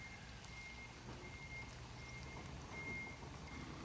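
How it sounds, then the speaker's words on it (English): Tow truck reversing beeps in a campsite setting, a faint, evenly spaced series of high electronic tones heard far off over a low truck engine rumble, with no talking. "after the wrecker comes here and then tow this car"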